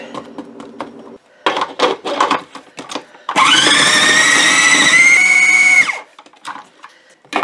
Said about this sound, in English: let's see if we can get these berries chopped up here